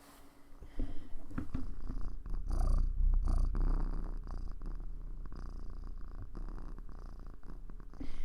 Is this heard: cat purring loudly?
yes